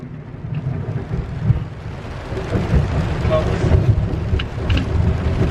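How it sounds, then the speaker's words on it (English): Steady heavy rain roars close by, with a deep rumble of thunder rolling underneath and swelling midway. "Oh my god, it's pouring."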